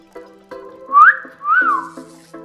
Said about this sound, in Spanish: Which mean whistle.